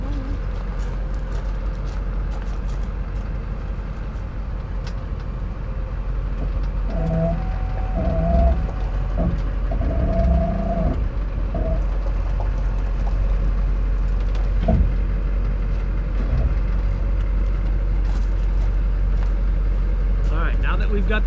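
A pickup truck engine idles and rumbles steadily as the truck creeps closer to a 5th wheel RV, a loud low drone that runs throughout, with a few brief tonal squeaks partway through.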